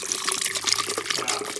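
Water pours steadily into a 1 litre shaker bottle, a close, continuous splashing trickle with no talking.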